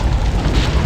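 A missile striking and exploding in the 1999 Recoil video game: one deep, rumbling boom that fills the whole brief moment, loud and close with no voices.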